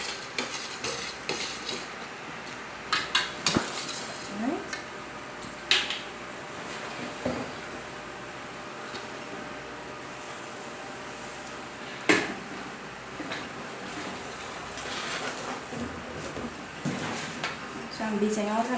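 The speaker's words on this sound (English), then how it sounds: "So I'm beating out and whisking the tamarind." A whisk beats tamarind pulp in a bowl to free the seeds, with sharp clacks against the bowl and soft wet churning in uneven bursts, close by, while a person talks over it.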